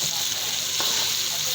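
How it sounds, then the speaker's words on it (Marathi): Ridge gourd (turai) fries in hot oil in a shaking kadhai for a village-style sabzi, giving a steady, close, dense sizzle that runs unbroken throughout. "बघा या प्रकारे तेलात फ्राय झाला."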